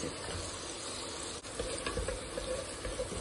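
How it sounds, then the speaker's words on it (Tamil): Steady sizzling of onions and tomatoes frying in a hot pan, a constant crackling hiss with small pops and a brief stir partway through. "வெங்காயம் கொஞ்சம் நேரம் பொன்னிறமாக வதங்கட்டும்"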